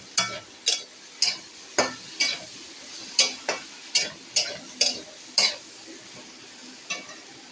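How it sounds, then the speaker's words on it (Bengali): Potatoes, taro and eggplant are stirred into spice paste in a pan, with a steady series of sharp scraping strokes from the spatula over a faint sizzle. "এই আলু, কচু, বেগুনগুলো কিন্তু এই মশলার সঙ্গে কষিয়ে নেব।"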